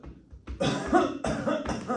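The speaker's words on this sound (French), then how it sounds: "Et là, je tousse." A person coughs forcefully a few times in quick succession during a standing breathing exercise, close and fairly loud, each burst rough and breathy with short pauses between.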